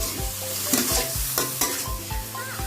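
Mussels and spring onions stir-fried in a pan, with a spatula scraping and knocking the pan in a steady rhythm over a constant close sizzle.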